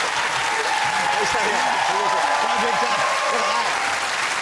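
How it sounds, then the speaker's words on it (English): A studio audience at a televised talk show breaks into loud, sustained applause, dense clapping filling the room evenly from start to finish, with a voice faintly audible beneath it. "He gets a big round of applause than me."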